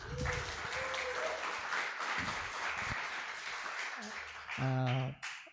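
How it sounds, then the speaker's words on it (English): An audience at an academic talk on AI for climate change applauds in steady dense clapping that carries on throughout, with a voice and a brief tone near the end. "Give applause again to Prof. Vinesh."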